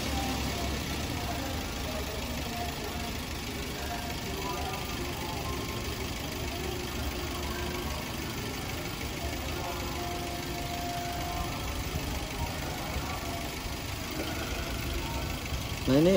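A car engine idles steadily during a charging test in a campus maintenance workshop, a constant low drone that stays even throughout with only a slight rise at the very end.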